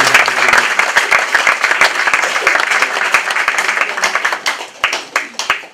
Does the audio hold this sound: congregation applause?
yes